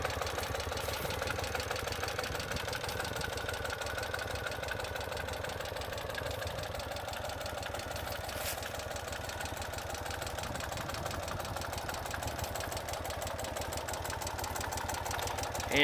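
A 2009 Ural Sahara limited-edition two-wheel-drive sidecar motorcycle idles close by, a steady loud rumbling engine beat with fast regular pulsing that holds even throughout, with no talking.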